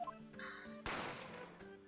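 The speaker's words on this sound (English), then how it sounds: "A gunshot rang out" A single sharp gunshot sound effect from the video game The Great Ace Attorney Chronicles, a loud burst with a decaying echo, set against soft game music.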